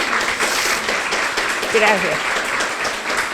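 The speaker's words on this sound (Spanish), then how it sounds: "Yo diría que se merece un aplauso de todos nosotros." An audience claps at an International Migrant Day event, sustained applause filling the room while a voice briefly speaks over it.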